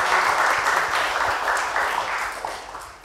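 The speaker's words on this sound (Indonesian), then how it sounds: "Tepuk tangan lagi." Steady applause from a crowd fills the space, dense and continuous clapping that stays loud throughout before tapering slightly at the end.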